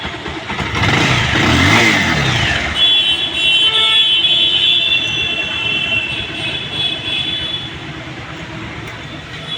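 A Bajaj Pulsar 220 motorcycle with a freshly refitted engine runs loudly and close, revving hard through the first few seconds, then holds a steady roar with a thin high whine over it.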